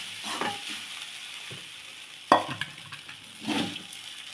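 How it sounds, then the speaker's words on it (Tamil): Crumbled leftover idli is stirred and sautéed in a pan over low heat for idli upma, giving a soft steady sizzle with a few scraping stirs and one sharp utensil clank. "இது மாதிரி நல்லா கிளறி விடணும் சிம்மிலேயே வச்சு கிளறுங்க இல்லைன்னா அடி பிடிக்கும்"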